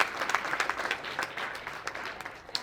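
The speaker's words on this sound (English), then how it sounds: "Can we give another round of applause?" A crowd applauds at an elementary school winter sports awards ceremony. The clapping is a steady, moderately loud round that lasts a few seconds without a break.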